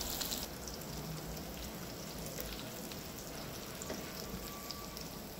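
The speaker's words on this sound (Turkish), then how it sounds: "Devam edeceğiz arkadaşlar kızartmaya." Deboned anchovies fry in oil in a pan, giving a steady, close, dense sizzle and crackle throughout with no talking.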